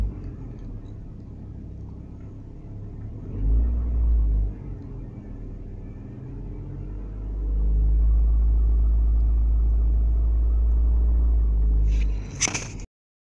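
A 1997 Ford Escort engine idles with a low rumble, then revs up briefly and again for a longer sustained stretch as the accelerator is pressed, ending with a short scrape before it cuts out.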